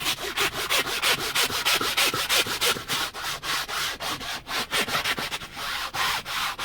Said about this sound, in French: il y a une petite brosse incrustée pour pouvoir frotter directement sur le siège